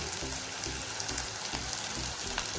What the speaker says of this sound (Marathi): वाटण आपल्याला असं पद्धतीने परतून घ्यायचं आहे.